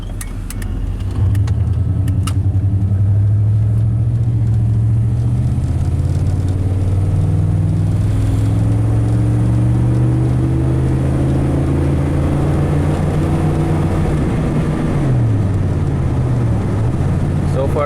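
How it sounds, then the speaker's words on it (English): A 1988 Chevy K1500 pickup accelerates, its engine drone climbing steadily in pitch with a loud, continuous roar from inside the cab. "Let's accelerate here and see how she accelerates."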